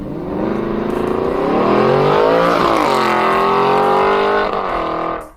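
An Aston Martin V8 Vantage engine revs loudly up close, its tone sweeping up, dipping and climbing again in a sustained, throaty roar before cutting off.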